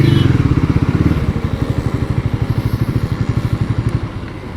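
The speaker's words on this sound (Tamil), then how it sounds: "இதுதான் அந்த பைக்கு. ஸோ கரிலா 450." A Royal Enfield Guerrilla 450 motorcycle idles nearby, its engine thumping in a fast, steady pulse that softens slightly toward the end.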